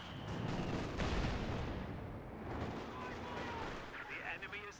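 Mortar and gunfire pounding an MG42 position in a multiplayer war game: a dense, continuous roar of shots and blasts rumbling loudly throughout.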